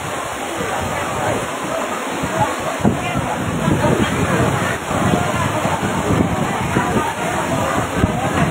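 Floodwater rushes and sloshes continuously across a flooded floor during a village alms-giving gathering, a loud, dense churning wash with scattered splashes and distant voices mixed in.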